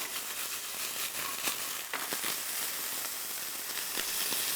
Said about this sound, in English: we're going to let this cook down just a little bit and soften those carrots up